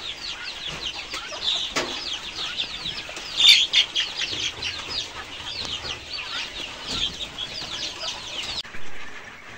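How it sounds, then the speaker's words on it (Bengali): Caged farm birds keep up dense, overlapping clucking and chattering with bursts of wing flapping and rattling against the cage, busy and close throughout. "আর এই যে বড় পাখি, এই খাঁচার পাখিগুলো দেখতে পাচ্ছেন"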